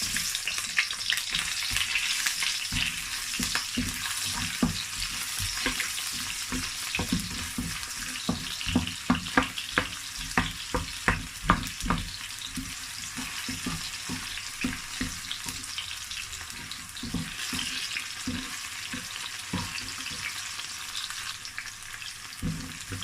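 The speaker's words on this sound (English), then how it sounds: "So I'm going to add my onions." Onions fry in a pan for a vegetable stir fry, making a continuous soft sizzle with a run of sharp scraping stirs partway through, close and moderately quiet, with no talking.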